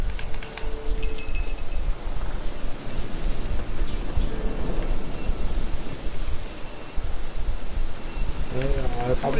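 Steady rain hisses across an outdoor scene in The Witcher 3 with low rumbling beneath it, staying loud and constant throughout, while a few brief tonal game sounds surface now and then.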